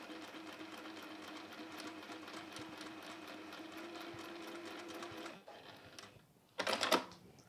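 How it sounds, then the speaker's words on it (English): A sewing machine stitches fabric along a marked line in a steady, fast mechanical whir for about five seconds, then slows and stops, followed by a short louder rattling burst. "You're going to sew on the line"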